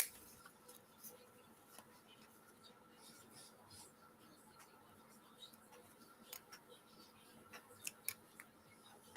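Scissors snip paper letters for a Sesame Street party centerpiece, a few quiet, close crisp cuts scattered through the stretch, growing sharper toward the end, over a near-silent room.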